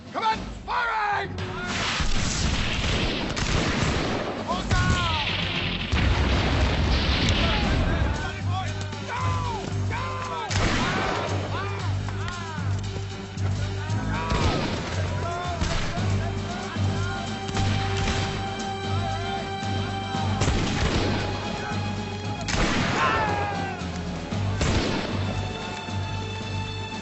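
Cannon blasts and rifle gunfire of a battle scene in the 1994 TV series Hawkeye, with repeated heavy booms and crackling shots over a rumbling background for the whole stretch, mixed with shouted voices.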